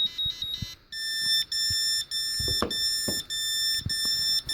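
A fire alarm sounds on an electronics demo board, a loud, steady electronic tone broken into regular pulses, with faint clicks underneath.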